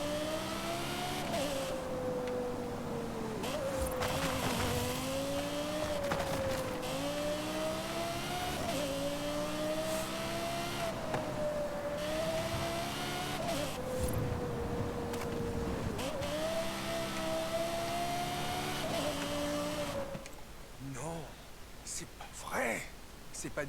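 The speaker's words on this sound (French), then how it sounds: "Ok, on décélère, puis on accélère." A car in the racing game Forza Horizon 5 revs through repeated rising and falling engine pitches as it decelerates and accelerates, a continuous droning whine under a man's speech, dropping away near the end.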